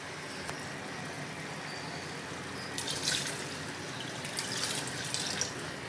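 Water poured steadily from a tap into a cooking pot for chana dal pulao, a soft continuous splashing and trickle with a few louder gushes near the end, close and alone.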